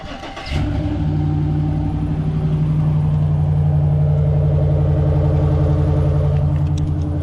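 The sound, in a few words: car engine exhaust sound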